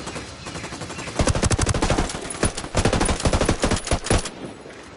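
Rapid automatic gunfire in the shooter Ghost Recon Wildlands, loud and close, coming in dense repeated bursts with brief pauses between them.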